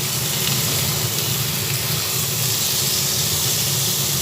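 Salted chicken pieces fry in a pan over a gas flame, giving a loud, steady, close sizzle and hiss that continues without pause and with no talking.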